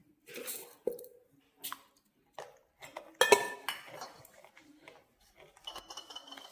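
A spoon stirring and clinking against a bowl as salt and sugar are mixed into a mixture, with scattered scrapes and clinks in separate bursts, fairly quiet overall, ending in light tapping.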